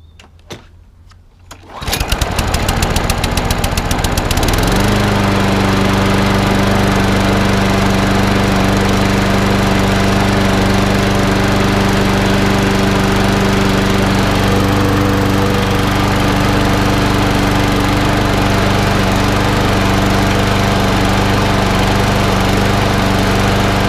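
A rusty Snapper 21 or 22 inch petrol lawnmower is pulled over and catches, then runs loud and steady close by, its engine drone holding an even pitch for twenty seconds without any talking.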